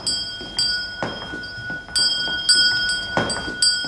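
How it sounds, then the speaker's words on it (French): Small handbell rung repeatedly in a convent at 4 a.m., bright clinking strokes in an irregular rhythm, fairly close and clear against a quiet night background, with no talking. "Quoi de plus mélodieux que ce petit son de cloche?"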